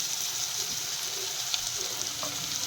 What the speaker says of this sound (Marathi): आपला मसाला छानपैकी दोन ते तीन मिनटं आपण परतून घेतला